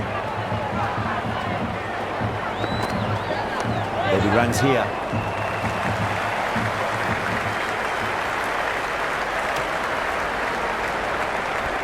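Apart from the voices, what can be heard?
cricket stadium crowd buzzing and applauding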